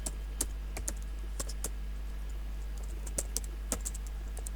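An email address is typed on a computer keyboard in sparse, irregular clicks of individual keys, close and clear over a low steady hum.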